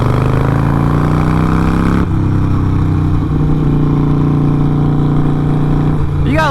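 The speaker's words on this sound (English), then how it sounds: "Bike doesn't sound bad, but it also definitely is in need of a service" A Harley Davidson Roadster motorcycle with an exhaust leak, due for a service, idles with a steady low rumble nearby, shifting slightly in pitch partway through as the engine note settles.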